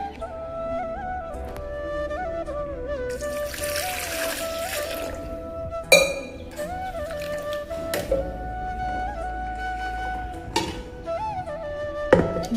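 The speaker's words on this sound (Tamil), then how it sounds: "கொஞ்சம் தண்ணி பிடிச்சி ஊற்றி காட்டுறேன்." Water from a tap trickles and pours into a pot of soapy water, a village kitchen pot used in ghee-making, splashing steadily at close range over a faint tonal background hum.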